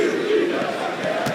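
An arena crowd in the NBA 2K25 basketball video game cheers and roars in a brief, dense wash of voices at moderate volume.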